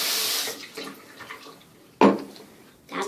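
Liquid poured from a soap container into a slime mixture of sugar and glue, a wet splashing gush at the start, then a second burst midway and a brief final trickle.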